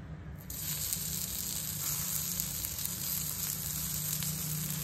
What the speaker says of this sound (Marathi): आता या तापलेल्या तव्यावर अगदी काही थोडंसं ऑइल घालून ते पसरून घेणार आहे सगळीकडे आणि त्याच्यावर आपण ह्या टिक्की शॅलो फ्राय करून घेणार आहोत